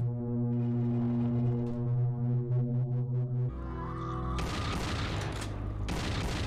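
Gunfire in the first-person horror video game Shrine comes in loud, rapid bursts of shots with a heavy booming tail. The shots follow a low droning tone.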